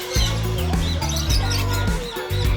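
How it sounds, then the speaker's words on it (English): Birds at Parotte Ville Bird Park in Philipsburg, Sint Maarten, calling loudly and repeatedly at close range, with clucking and chirping layered over a pulsing low hum. "There are birds all over the place in there."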